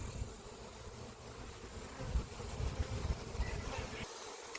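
A honey bee swarm of roughly 25,000–30,000 bees poured out of a box, filling the air with a steady, dense buzzing hum that holds throughout with slight swells, and no voices.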